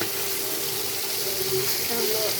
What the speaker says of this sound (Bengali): এই তো গাইস মাছ ভাজছি